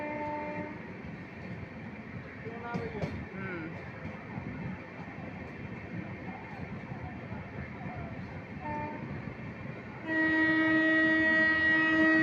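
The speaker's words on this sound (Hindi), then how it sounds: "ये रही वैग 5 लोकोमोटिव के साथ अपने ज़माने की सबसे पॉपुलर ट्रेन गरीब रथ एक्सप्रेस जयनगर से आनंद विहार तक जाती है।" The Garib Rath Express, hauled by a WAG-5 electric locomotive, passes with a steady rail rumble, then a loud, sustained horn blast at the end.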